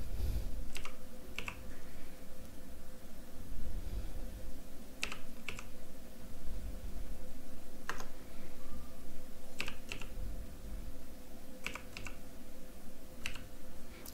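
Keys on a computer keyboard are pressed while a password is entered, giving sparse, crisp clicks in small clusters with pauses between them, set against a quiet room hum.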